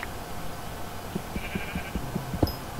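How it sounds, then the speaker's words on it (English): Minecraft sheep bleating in a survival game, a few brief bleats over ambient game sound and soft footstep-like thumps, moderately faint. "I found a sheep. Can I kill it?"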